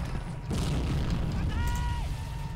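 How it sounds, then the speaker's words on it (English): An artillery shell bursts in the World War II strategy game Men of War: Assault Squad, a heavy low boom that rolls on under game sounds and a brief rising tone. "They're using artillery now."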